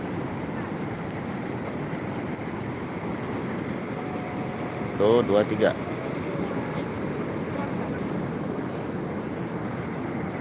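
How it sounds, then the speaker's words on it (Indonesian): Big ocean waves roll onto the south-coast beach at Madasari, Pangandaran, a steady loud wash of surf and wind noise throughout, with a brief burst of nearby voices in the middle. "Ombaknya besar banget ini pantai selatan."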